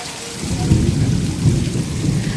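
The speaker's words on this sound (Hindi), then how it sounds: "कितना जबरदस्त बारिश हो गई" Heavy rain pours steadily while deep thunder rumbles low underneath, a dense, loud storm with no voices.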